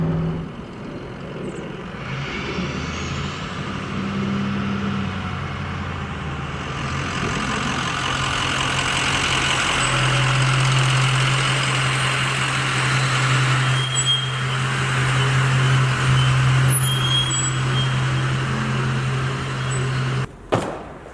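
A truck accelerating while towing a 2018 R&R 7 by 20 foot all-aluminum car hauler trailer, its engine a steady low drone that climbs and holds through gear changes, with road noise heard from inside the cab.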